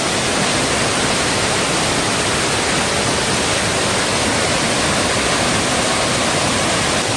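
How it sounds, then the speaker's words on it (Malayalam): Marottichal waterfall in Thrissur, Kerala, swollen with monsoon water, roars as a steady, loud, broadband rush of falling water with no break and no voices. "മഴക്കാലത്ത് വന്നാലാണ് ഈ വെള്ളച്ചാട്ടത്തിന്റെ ഭംഗി ആസ്വദിക്കാൻ പറ്റുള്ളൂ, അല്ലെങ്കിൽ ഇത്രയും വെള്ളം ഉണ്ടാവില്ല"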